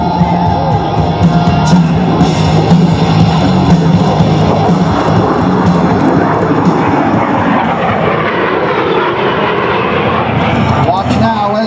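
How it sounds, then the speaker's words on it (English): An A-10 Thunderbolt II jet aircraft makes a demonstration pass at an air show, its loud, steady engine roar filling the air from start to finish while a crowd and an announcer's voice carry on beneath it. "Ladies and gentlemen, from your right, Major Thorpe and the A-10 Thunderbolt II."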